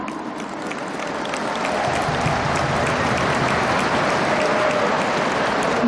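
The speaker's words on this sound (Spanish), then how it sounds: "Le brindamos un fuerte aplauso." Steady crowd applause at a Bolivian degree-awarding ceremony honouring a Guaraní university rector, dense clapping that swells slightly after the first seconds and holds loud and continuous.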